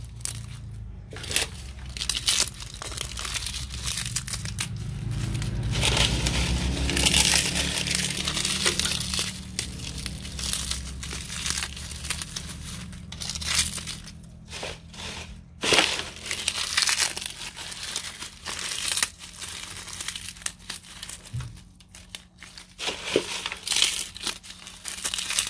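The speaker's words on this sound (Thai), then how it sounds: "ฉีกไปเลยนะคะฉีกเป็นชิ้นเล็กๆเดี๋ยวเราก็จะคลุกเคล้าให้เข้ากัน" Material torn by hand into small pieces for mixing bagged potting soil, giving close, irregular crinkling and ripping bursts with brief pauses between them.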